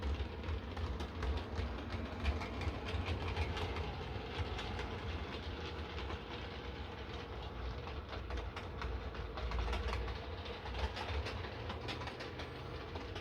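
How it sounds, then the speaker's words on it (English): A Heljan Class 57 model locomotive crawls along a track with a faint, quick, continuous clickety-clack of rapid small clicks over a low rumble, quiet and close, no talking. "There's something about Heljan models that do that clickety clack really, really well."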